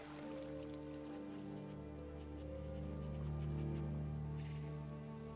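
Rain falls at a lake in the video game Skyrim, a soft continuous patter over a low steady ambient hum, quiet and even throughout.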